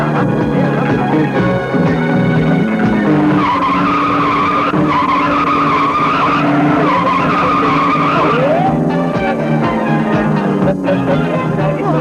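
Car tires squeal loudly in a sustained skid during a stunt drive in a 1991 Hindi film, the screech holding steady and close for most of the twelve seconds, with no talk over it.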